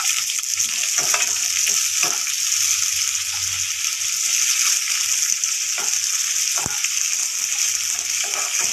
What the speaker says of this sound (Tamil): இது நல்லா வதங்கட்டும் நல்லா வதங்கிடுச்சு